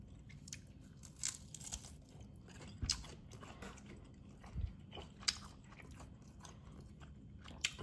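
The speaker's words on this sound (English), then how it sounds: "I really appreciate how crispy these got in the air fryer." Someone bites and chews crispy air-fried food topped with hot sauce, close and quiet, with sharp crunches at irregular intervals over soft chewing and no talking.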